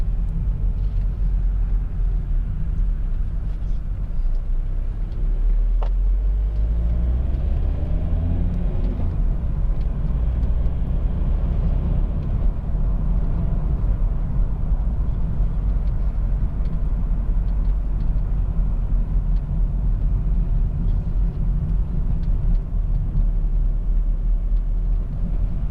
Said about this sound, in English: It's quite amazing just how low you can rev the vehicle in any gear, and with the engine is just, you know, able to pull from such low revs